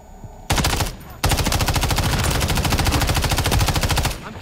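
Loud, sustained automatic gunfire from the video game Modern Warfare 3, a short burst followed by a long unbroken stream of rapid shots close by.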